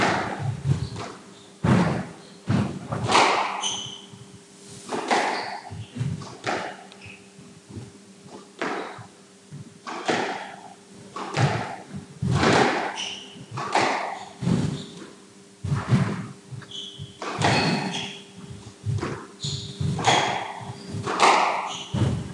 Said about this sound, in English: He's not hitting the ball with as much pace.